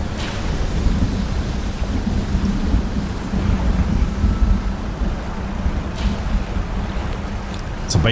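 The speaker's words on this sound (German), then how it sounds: "bei Gewitter draußen auf dem Meer zu sein, ist jetzt auch nicht so clever" Thunderstorm at sea in the fishing game DREDGE: a continuous low rumble of thunder and wind with rain and sloshing waves around a boat, loud and steady throughout.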